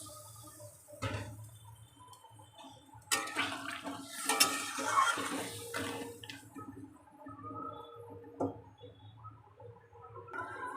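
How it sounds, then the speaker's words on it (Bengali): Water poured into a cooking pot of fish curry with green plantain in a home kitchen, a splashing, gurgling pour with clinks of the pot, fairly close and alone with no talk. "আর একটু জল দেব।"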